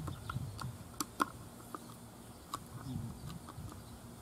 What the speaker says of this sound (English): we want to take all those 6 screws out and see what's going on inside